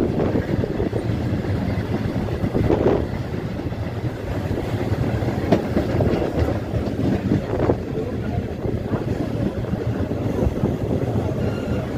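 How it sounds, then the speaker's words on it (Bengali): A passenger train runs on rails on the way to Namkhana station near Kolkata, giving a steady, loud, continuous rumble and rattle with wind noise throughout and no speech. "তারপর আবার ট্রেনে উঠে পড়বো"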